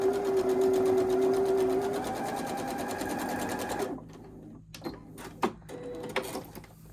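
A sewing machine whirs steadily at close range while stitching a quilt block, then stops, leaving faint clicks and handling sounds of fabric and the machine.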